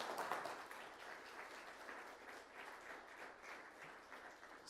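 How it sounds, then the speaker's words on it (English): Audience applause after a talk on company culture, a dense steady wash of many hands clapping, loudest at the start and holding evenly for several seconds with no one speaking. "Let's get a big round of applause for Joe."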